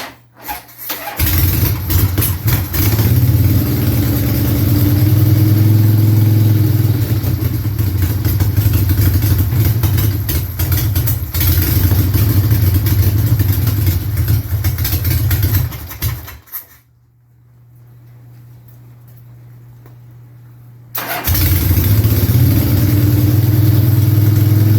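A 1975 Harley-Davidson Sportster motorcycle engine is running close and loud with a steady rumble and revs. It cuts out for several seconds, then restarts and keeps running.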